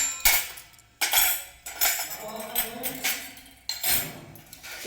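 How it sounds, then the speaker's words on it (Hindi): Newly bought steel bowls and spoons clink and clatter as they are handled, with repeated bright metallic knocks in uneven bursts, close and fairly loud, with no talking. "ये मैं बर्तन लाई हूँ आज, कुछ ये 5 कटोरी,"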